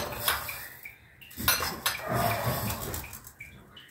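Metal clatter of a pan set on a stovetop followed by a spoonful of mustard seeds tipped in, a few close clanks and a light rattle, with no talking.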